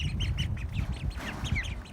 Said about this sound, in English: you'll hear the occasional very, very faint quack